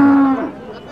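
A young heifer lets out a loud, close moo at a busy cattle market, a single drawn-out bellow that fades into a quieter murmur of background noise.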